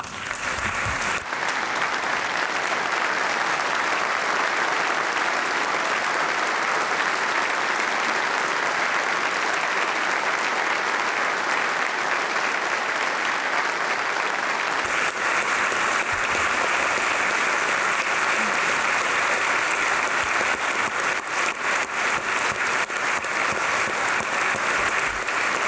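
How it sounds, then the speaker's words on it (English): A legislative chamber audience applauds first responders for their bravery during a lawmakers' session, producing a thick, unbroken wash of clapping that stays loud and even for the full stretch with no talk over it. "Will you please join me in applauding their bravery?"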